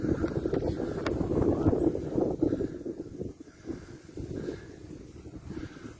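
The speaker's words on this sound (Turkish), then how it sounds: "Bayağı bir rüzgar var arkadaşlar." Strong wind roars and buffets continuously, with gusts rising and falling and rumbling against the microphone.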